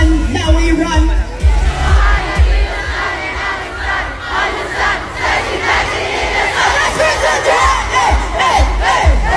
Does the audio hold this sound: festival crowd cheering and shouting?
yes